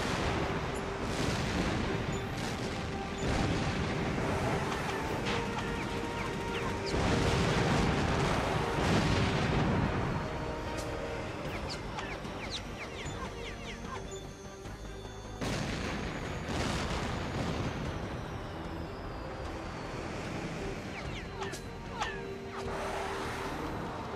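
Missile launches and explosions in the air combat video game H.A.W.X 2, dense rumbling booms and jet roar layered continuously, loud and full throughout.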